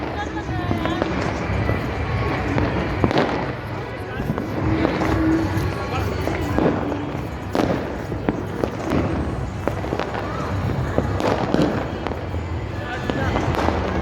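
Firecrackers bursting all around Jaipur on Makar Sankranti night, a dense, continuous crackle of pops and bangs near and far, with someone talking over the noise.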